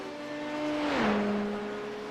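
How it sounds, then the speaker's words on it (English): A Dallara P217 LMP2 race car with a Judd engine at the 24 Hours of Le Mans, a sustained high engine whine that rises in intensity then drops in pitch as it passes, with no talk. "Sounds like a Judd engine to me"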